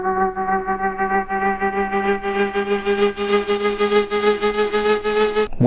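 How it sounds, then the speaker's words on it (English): A mosquito-like synth riser from an electronic dance track buzzes with a pulsing, wobbling rhythm. Its pitched tone climbs steadily brighter over several seconds and then cuts off abruptly, with no voices. "We then have this mosquito type riser."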